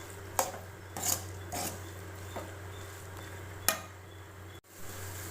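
Bitter gourd and tomato stirred in a pan, a few scattered spatula scrapes and clinks against the metal over a quiet, steady low hum, with no talking.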